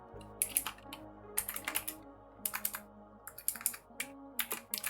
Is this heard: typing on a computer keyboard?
yes